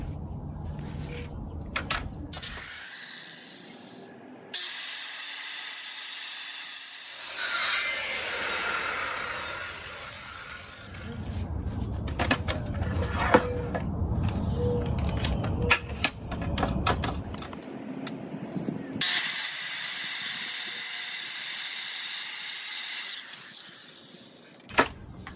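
Power saw cutting timber for a stand-up garden bench, blade set deep for the sides; loud bursts of whining cutting separated by pauses, with clattering handling noises between cuts and no speech.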